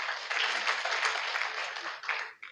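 A church congregation claps together in praise during a worship service, a steady dense burst of applause of moderate loudness lasting a couple of seconds before fading out.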